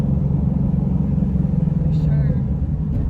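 Manual Chevrolet Camaro engine rumbling steadily from inside the cabin while driving, a continuous loud low drone with brief voices over it near the end.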